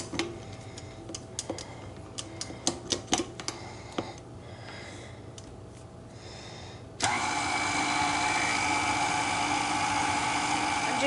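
A stand mixer with a whisk attachment starts up partway through, beating homemade frosting made with powdered sugar, and runs as a loud, steady whir. Scattered ticks and clicks come before it.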